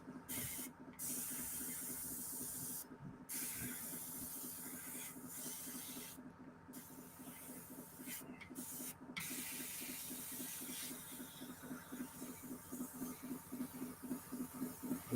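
An airbrush lays down paint shadows on the ground of a skeleton figure, a steady close hiss of spraying running nearly the whole time, broken by a few short pauses, with a faint mechanical buzz underneath.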